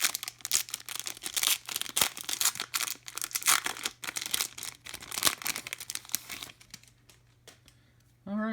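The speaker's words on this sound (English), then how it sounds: "let's rip into this update pack" A foil pack of baseball update trading cards being torn open, with continuous close crinkling and ripping in uneven bursts that fade out near the end, when a voice briefly starts.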